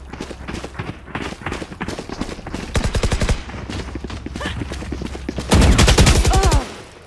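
Gunfire rattles through a fight in the video game Valorant as rapid bursts of automatic shots, steady then a louder, denser volley near the end, with faint game sounds between the bursts.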